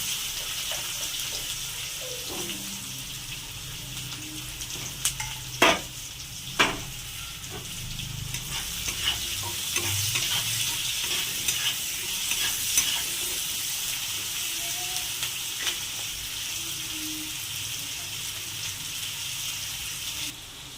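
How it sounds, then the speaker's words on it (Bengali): Chopped onion and potato frying in a pan, a continuous soft sizzle with occasional clinks and scrapes of stirring, plus a short burst of running tap water, close and steady throughout. "আর পেঁয়াজ কুচি দিয়ে দেবো। আর আলু দিয়ে দেবো।"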